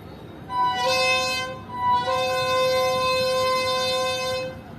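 A passenger train at Jamdaav junction railway station in the Thar Desert sounds its horn: a short, loud, harmonic blast followed by a longer sustained one, clear above a steady station rumble.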